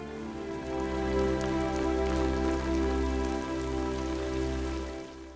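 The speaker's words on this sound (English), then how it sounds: "a deluge of pouring rain ever present once more" Heavy pouring rain from a film's rain-soaked shootout scene, a dense, steady roar of downpour with constant splashing, loud and unbroken, with no voices.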